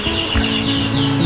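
Canaries chirp in their cage, with dense, bright tweets and trills layered over one another in a steady, close chorus and no talking.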